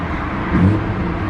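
Infiniti Q50 engine in sport plus mode, a brief revving swell that rises and falls once over a steady low idle, heard close with no talk.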